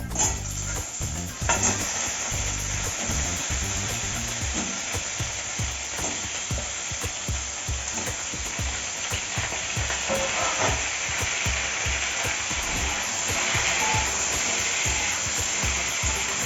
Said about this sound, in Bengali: এবার লাউ আর আলু দুটো মিলে একসঙ্গে নাড়াচাড়া করে নিই।